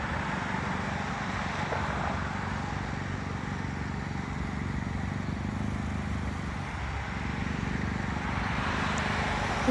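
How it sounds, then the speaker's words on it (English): Jet airliner on approach to Midway International Airport, a steady broadband engine roar that holds loud and even throughout, with no talk over it. "Here comes an aircraft. It's a jet."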